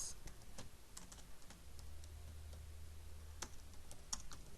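Typing on a computer keyboard, with quick, scattered key clicks close by over a low steady hum, quiet and without speech.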